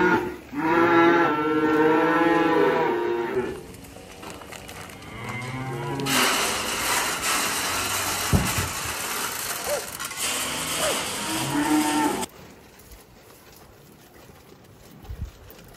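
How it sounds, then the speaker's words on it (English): Calves mooing loudly and close, several drawn-out harmonic bawls from young cattle in the opening seconds, followed by mechanical clanking and rattling noise on a farm, with quieter surroundings at the end. "Hello, baby cows."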